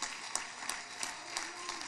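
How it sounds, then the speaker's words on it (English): A church congregation claps hands during worship, a steady rhythmic beat about three claps per second, crisp and moderately loud over a quiet background. "Clap your hands tonight."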